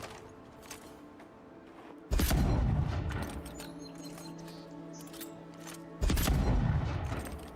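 Gunfire in the video game Avowed: two loud, booming bursts land near, the first lasting about four seconds with a rolling rumble, then a second heavy blast near the end, over faint background game ambience.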